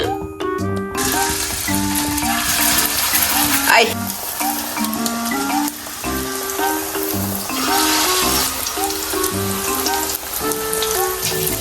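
Snack frying in sunflower oil, a steady close sizzle and bubbling with occasional stirring and clinks of a utensil, continuous throughout with no talking.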